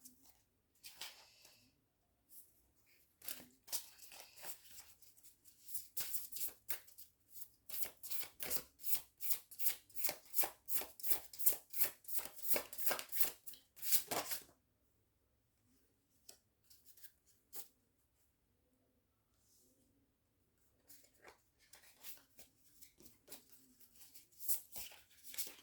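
Tarot cards are shuffled by hand in quick riffling bursts, a dense run of crisp flicks that builds midway and then stops, close and fairly quiet, with sparser card sounds afterward.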